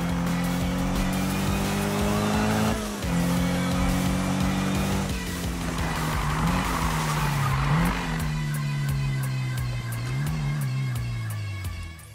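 Engines roar continuously as cars drag race in the Need for Speed video game, with loud, sustained tire squeal and rising and falling engine pitch across several gear shifts.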